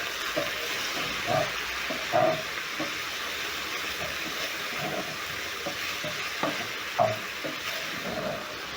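Chicken stirred with a soy sauce mixture in a hot pan, a low steady sizzle broken by periodic scraping and knocking strokes of the utensil about once a second, close but fairly quiet, with no voices.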